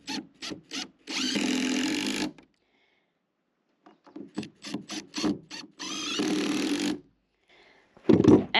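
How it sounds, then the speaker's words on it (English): A power drill drives a screw into a tongue and groove wood board, with two sustained whirring bursts, each about a second long, broken up by sharp taps and clicks of handling nearby. "And then I drill it in."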